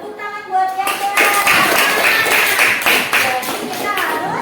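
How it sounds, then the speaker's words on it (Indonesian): Children clap their hands in an Indonesian primary classroom, a quick burst of many small hands patting out irregular claps that last a few seconds, with faint young voices mixed in. "Iya, tepuk tangan buat yang ya."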